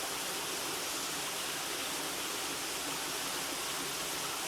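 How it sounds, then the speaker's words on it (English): Water at Elsecar Reservoir rushes in a steady, broadband hiss, a continuous even flow like a stream or small weir, heard alone without talk. "if you listen to the sound of the water"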